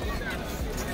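Dense crowd babble at the Gateway of India in Mumbai on a busy Sunday, many overlapping voices forming a steady close hubbub for about a second.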